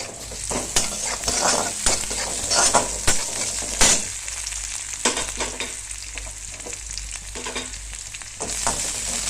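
Chopped onion frying with a spoonful of ginger-garlic paste for matar paneer, a continuous close sizzle with frequent rapid spoon scrapes and clatters against the pan throughout, steady and moderately loud, no talking.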